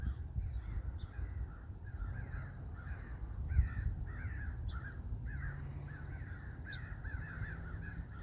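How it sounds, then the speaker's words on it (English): A group of crows calls in rough, repeated caws from trees beyond a garden, fairly distant, with a steady low outdoor hum underneath. "The crows they're here all year."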